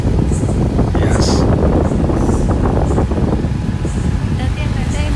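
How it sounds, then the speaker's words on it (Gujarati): Wind rushing past while riding an Activa scooter through Rajkot at night, a loud, continuous low buffeting roar on the microphone with faint traces of voices in the rush. "ઠંડી ઠંડી પવન આવે છે ને"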